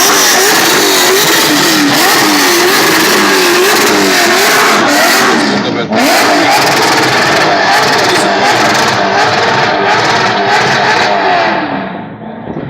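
Drift car burnout with a medium engine revving hard and steadily, loud and close, tyre squeal and roar blending throughout, with a brief dip midway before the revs continue and fade slightly at the end.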